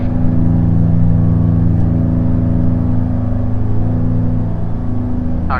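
Beechcraft Twin Bonanza twin-engine plane accelerating for take-off, heard from inside as a loud, steady droning engine roar with strong low harmonic bands, continuous throughout.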